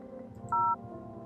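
A single short two-tone beep from a telephone keypad sounds in a video game, loud and clean over a low hum of background ambience. No one speaks.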